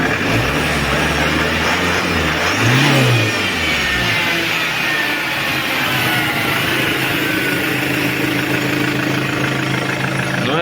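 Loud, close Chevrolet Captiva 2.0 diesel engine idling after an oil and filter change, revved up a couple of times early on before settling back to a steady idle.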